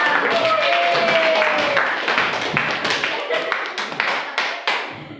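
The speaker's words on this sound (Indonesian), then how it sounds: "Tepuk tangan buat kelompok." Classroom clapping for a student group, a dense burst of hand claps with scattered individual taps and voices mixed in, fading and thinning toward the end.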